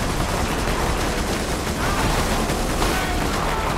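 Gunfire in the shooter Borderlands 2, a loud, dense barrage of rapid shots and bursts layered over vehicle and combat noise, continuous and chaotic throughout without clear pauses.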